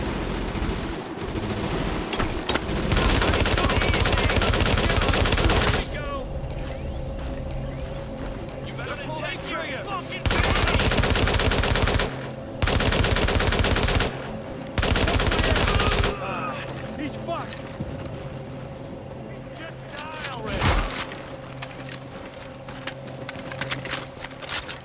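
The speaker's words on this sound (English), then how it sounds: "Warning, supplies taking fire." Bursts of video-game automatic gunfire from The Division, loud and repeated in several sustained volleys separated by short pauses, with a game voice alert and talk mixed in.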